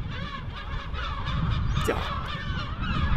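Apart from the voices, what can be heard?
seagulls screeching at fishing harbour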